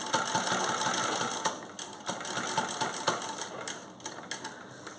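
A sewing machine stitches a pant zipper, its rapid mechanical whirr steady and near, with brief pauses and clicks as the fabric is adjusted.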